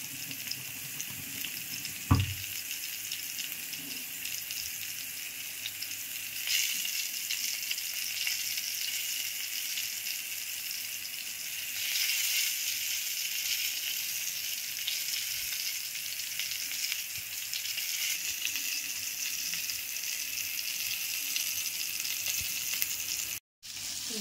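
Bangda (mackerel) from the Kudal fish market frying in a pan, with a steady close sizzle for a long stretch, an early clink of metal, and a short gap near the end.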